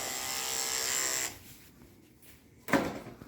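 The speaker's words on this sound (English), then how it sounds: "now here we're just going to hold his lips back and we're going to shave forward and get that last little hair" Electric shaver trimming the face of a Bichon Maltipoo mix dog, a steady buzzing hum for about a second before cutting off, leaving quiet handling noise and a brief clunk near the end.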